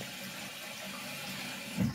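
Steady broadband rush of hot water running from a tap, continuous and close, with a brief louder splash near the end.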